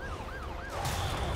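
A wailing police siren in the video game League of Legends rises and falls in quick cycles over a steady engine rumble, fairly loud and continuous.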